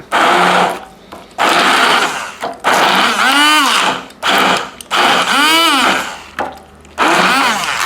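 A blender running on low speed chopping corn kernels for creamed corn, loud whirring bursts that stop and start several times, with pitch sweeping up and down as it labors through the dense mixture.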